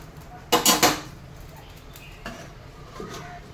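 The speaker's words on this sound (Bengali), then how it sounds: "এবার আমি ঢাকনাটা খুলবো, দেখবো আলু সিদ্ধ হয়ে গেছে কিনা" A metal lid lifted off a pot of boiled potatoes on the stove, giving three quick clattering clanks close by, then a couple of fainter metallic taps against the pot.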